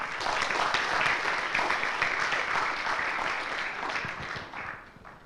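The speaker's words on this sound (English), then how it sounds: "give an applause for Mr. Ganjar." Sustained applause from an audience at an international seminar, steady and full for several seconds before tapering off at the end.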